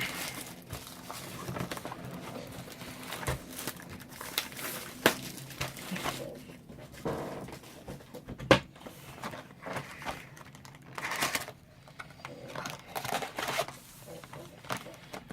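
Plastic wrapping on a Shadows Over Innistrad booster box crinkles and tears in short bursts as it is opened by hand, with sharp snaps and rustles scattered throughout, close up.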